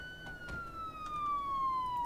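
Emergency siren in the video game Project Zomboid, one continuous wail gliding downward in pitch and growing slightly louder, with a few faint clicks underneath.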